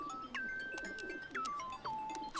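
Cartoon pigeons give a series of soft, warbling coos, each a rising then falling call with a steady held tone between, faint and fairly close, with no talk.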